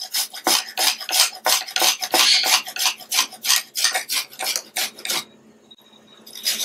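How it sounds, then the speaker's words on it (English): About an ounce of fresh peeled ginger is rasped against a grater in quick, rhythmic strokes, roughly twenty close scrapes that stop near the end, with no talking. "I'm going to grate my ginger."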